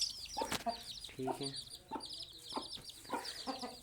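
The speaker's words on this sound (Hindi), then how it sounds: "ये देखें, ये मुर्गा है जी, चेक करें मुर्गे को" A fighting rooster gives soft, repeated clucks at close range, mixed with scattered faint clicks and knocks, while someone speaks briefly.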